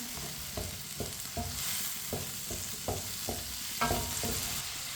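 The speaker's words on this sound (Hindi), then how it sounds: "इसी तरह इसे चम्मच चलाते हुए पकाना है" Tomatoes and green chillies cook in a pan, stirred with a spoon in a regular rhythm of soft scraping strokes over a quiet, steady sizzle.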